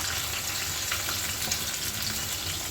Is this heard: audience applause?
no